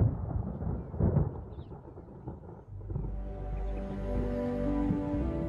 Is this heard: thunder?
yes